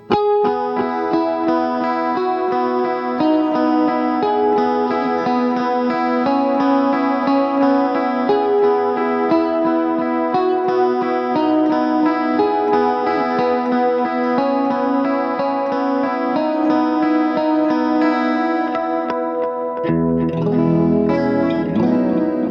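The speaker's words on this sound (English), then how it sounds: "it's a pretty modulated delay, which means it has just like some chorus on the repeats" An electric guitar rings out chords and arpeggios drenched in shimmering chorus and modulated delay repeats, spacey and sustained, playing alone without talk.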